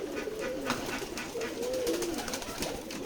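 Domestic pigeons in a village coop near Keshabpur, Jessore, coo in soft, rolling, repeated calls, steady and fairly close over a light background hum, with no talking.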